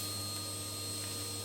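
A hoover runs steadily while vacuuming the register plate of a Morso wood burning stove, a constant droning whine close to the microphone with no talk.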